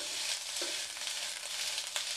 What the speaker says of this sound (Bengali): এইটাকে আমি এবার ভাজবো। হালকা লাল লাল হবে এরকম ভাজবো